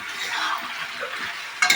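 Chicken Manchurian balls stir-fry with spices in a pan, a dense, continuous sizzle mixed with spatula stirring, ending in a short metallic clatter.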